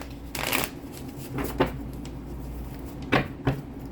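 Tarot cards being shuffled in a few quick riffling bursts, each a short papery flutter, with soft taps between them and no talking.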